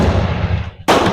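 A single loud, close rifle shot from an M47 Madsen bolt-action rifle, a sharp broadband crack followed by a short dull tail, with no talking.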